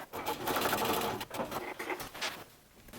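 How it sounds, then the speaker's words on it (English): A sewing machine stitches a seam on a men's button-up shirt being refashioned into a dress, running in short close bursts with brief pauses between runs of stitches. "So I just sew couple stitches on each side, and this will keep that seam allowance in place."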